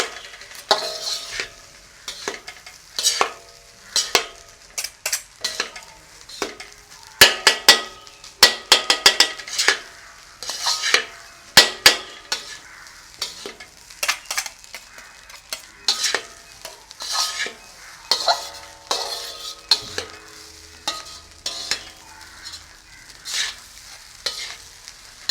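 Cooked rice being stirred in a frying pan for pepper rice, with repeated scraping and clattering of the utensil against the pan in irregular bursts over a faint sizzle, no talking.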